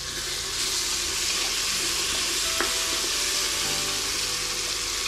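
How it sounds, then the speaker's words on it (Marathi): Cashews fry in a pan of hot fat for a vegetable pulao, making a loud, unbroken sizzle that hisses evenly for several seconds with a single faint clink partway through. "आता आपण काजू टाकून घेऊयात"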